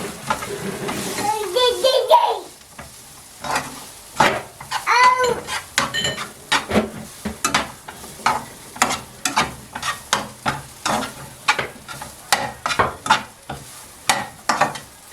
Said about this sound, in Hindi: पहले हम चिकन राइस बना रहे हैं।